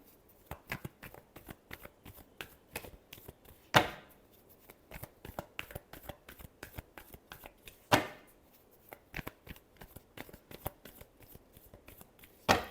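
Tarot cards shuffled by hand in a fast, steady flurry of close, crisp flicks and riffles, with a few louder bursts where the deck is bridged or squared, no talk over it.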